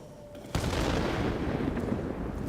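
A 1,000-pound bomb dropped on a base in the IL-2 flight game, a sudden loud blast followed by a sustained heavy rumble that fills the rest of the moment, with no talk.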